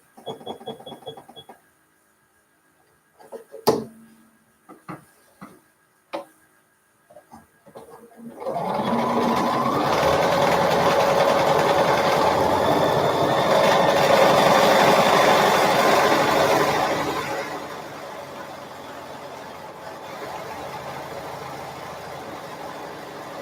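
Sewing machine stitching a scant quarter-inch seam along a pillowcase's bottom and side, a steady, fairly loud whir running about fourteen seconds after a few sharp clicks and handling knocks, then easing into a softer hum.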